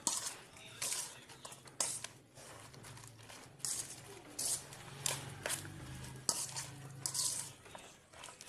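A utensil scrapes and clinks against a bowl as batter mixed with salt is stirred, in repeated irregular bursts of clatter. A voice talks faintly in the background.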